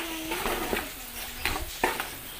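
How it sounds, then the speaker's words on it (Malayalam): Chopped onions sautéing in a pan for a homestyle chicken curry, a steady soft sizzle with a spoon or spatula scraping and stirring the pan several times, close and clear. "ഇനി നന്നായിട്ട് നമുക്കൊന്ന് വരട്ടി നമ്മുടെ സവാളയൊക്കെ ഏകദേശം നന്നായിട്ട് വാടി"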